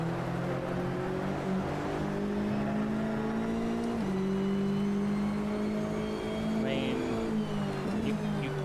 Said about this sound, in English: Can't make a flat 6 sound poor,